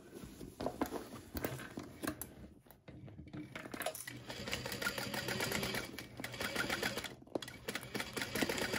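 Sewing machine backstitching a seam on a fabric handbag, a quiet, rapid mechanical whir of needle strokes running in bursts with brief pauses and small clicks between them.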